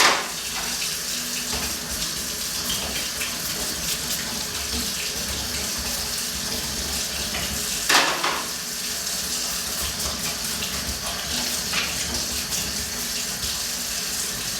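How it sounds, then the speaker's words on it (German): Podiatry instruments, including forceps with hinged joints, are scrubbed with a brush under a running tap in a podiatry practice. Water pours steadily and close, with one brief louder splash partway through and no talking. "Einfach unter fließend Wasser die Instrumente schön bürsten, auch die Gelenke, damit erst aller grober Schmutz abgeht"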